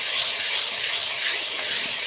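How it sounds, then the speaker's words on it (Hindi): Ginger garlic paste, one tablespoon, hitting browned frying onions during the cooking of daal mash, giving a steady, loud, broadband sizzle and hiss that holds unbroken throughout with no voices. "अब मैं इसमें अदरक लहसुन का पेस्ट डालूँगा 1 टेबल स्पून।"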